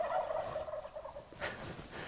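A wild turkey gobbles loudly nearby in Nebraska, a rapid rattling call, followed by a fainter second gobble in open outdoor air.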